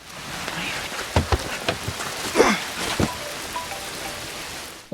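Steady rain falls in a film scene, a dense hiss of drops with a few louder splashes and thuds near the middle, and no clear talking over it.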